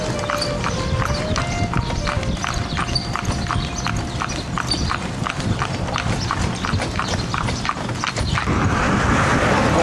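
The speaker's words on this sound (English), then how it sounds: "We're traveling by horse and cart" Horse and cart clip-clop steadily along a road in Transylvania, Romania, hooves striking in an even rhythm with wheel rumble beneath, loud and close throughout, with a louder wash of noise near the end.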